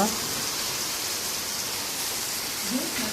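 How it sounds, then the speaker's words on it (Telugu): Steady rain pours down during the Kerala rainy season, a continuous, even hiss of falling drops that stays close and constant throughout, with no voices. "చూసారా ఇక్కడ వర్షం ఎలా పడుతుందో."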